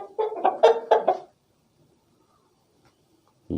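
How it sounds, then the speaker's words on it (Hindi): A hen gives a quick run of clucks up close, then a pause of silence before another cluck begins. "ये मुर्गी है, ये एक पेयर है।"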